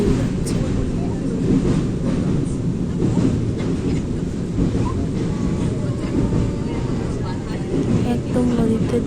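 Passenger train rolling across a long river bridge on the Howrah to Puri line, a steady loud rumble with rattling carriages throughout, people talking over it.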